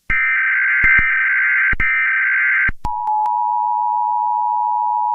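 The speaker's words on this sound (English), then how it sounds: "Louis Channel has issued an EAS alarm for a blizzard warning." A blizzard warning comes through TV emergency alert broadcast tones: a loud sustained dual-tone alarm broken by a few clicks, then a steady single lower tone, with no voices.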